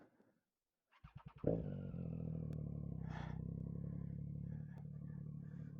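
A Triumph Street Triple 660 motorcycle cranks and fires after a quiet moment, briefly revs, then settles into a steady, close, even idle rumble.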